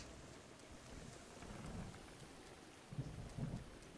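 A thunderstorm rolls through Zelda: Breath of the Wild, with steady rain hiss under low rumbles of thunder that swell twice near the end, quiet and distant.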